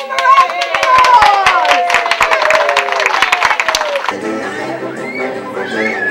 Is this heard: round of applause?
yes